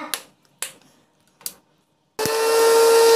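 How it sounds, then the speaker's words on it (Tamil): A mixer grinder starts up and whirs steadily, grinding soaked ingredients for homemade shampoo after three sharp clicks and knocks as the jar is set in place. "மிக்சியில் வந்து நல்லா வந்து அரைச்சிடணும்."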